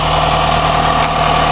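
A 1990 Dodge Daytona Turbo engine idles from a dead-cold start, giving a steady, even, close-up rumble with no surges or misses and no voices.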